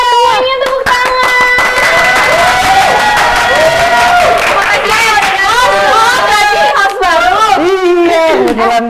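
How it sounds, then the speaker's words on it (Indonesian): A television studio audience claps and cheers to welcome a guest, with a loud, steady crowd noise blended with bright tonal music or voices throughout. "Semuanya tepuk tangan."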